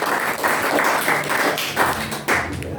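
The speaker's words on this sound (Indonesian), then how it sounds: "Tepuk tangan dulu buat Allah kita." A Pentecostal congregation at a GPdI Sunday worship service in Pagedangan claps together in a steady, rhythmic beat, a dense roomful of hands pulsing evenly for about three seconds with no voices on top.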